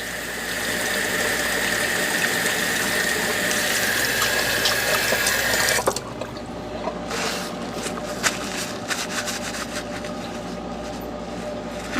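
Water runs steadily over a stone bow drill bearing block for several seconds as it is rinsed, then the flow stops, leaving faint drips, taps and handling sounds close by.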